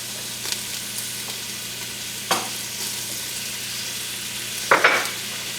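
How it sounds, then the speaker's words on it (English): Beef with spices and a cinnamon stick browns in a pan with a steady soft sizzle, broken by a few scraping stirs, the loudest near the end. "we're going to let the meat brown"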